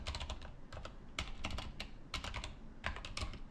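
Rapid typing on a computer keyboard while coding a React/Next.js form, with dense irregular key clicks in quick bursts and short pauses, close and steady.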